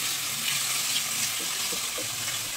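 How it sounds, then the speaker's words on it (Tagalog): Tomatoes fry in a pan while burong tilapia is being cooked, giving a steady, close sizzling hiss that runs without a break, with a few soft stirring clinks underneath. "Lutuin lang natin yung kamatis bago natin ilagay yung buro."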